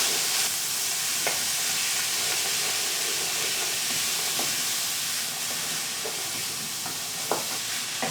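Salted onions sizzling and frying in a pan while being stirred to soften for a cottage pie, a constant close hiss with occasional spoon scrapes and clicks, and no talk.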